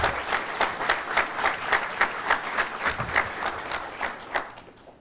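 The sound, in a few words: graduation audience applause for instructors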